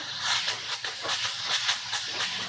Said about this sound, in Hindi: हाई फ्लेम पर 2 मिनट के लिए फ्राई करेंगे